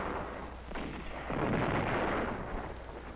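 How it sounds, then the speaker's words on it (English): Rocket shelling and aerial strafing by attacking planes against enemy positions on Saipan in 1944 form a dense, continuous roar of booming blasts and rumbling fire, swelling louder midway through with no voices. "Enemy positions were softened up by intensive strafing and rocket shelling."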